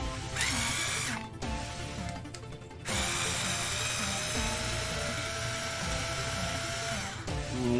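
Power tool driving out the four screws holding a transmission shock tower during a teardown; a loud, steady whirring drill runs almost continuously, with brief dips in pitch and pauses between screws.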